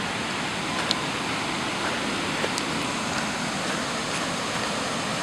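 Rushing floodwater after torrential rain: a continuous broad roar of moving water, steady and fairly loud, with faint splashes on top and no voices.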